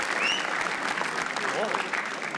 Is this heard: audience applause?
yes